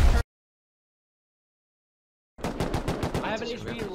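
Rapid automatic gunfire in the video game Rust, a brief loud burst, then silence, then a fast run of close shots mixed with a voice talking over them.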